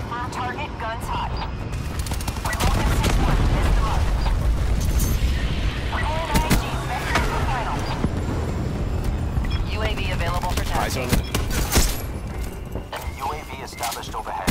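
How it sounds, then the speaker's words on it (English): Distant booming fire from a Vulcan gunship in a shooter video game, a dense rumbling barrage of blasts and pops under steady radio-style voice chatter, with brief louder hits near the end. "Vulcan 6-1, a firm target, guns hot."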